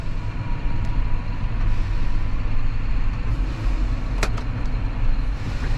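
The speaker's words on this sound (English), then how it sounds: "Got a lorry coming in." A lorry arriving at a sheep farm, heard as a loud, steady low engine rumble close by, with a couple of faint higher clanks over it.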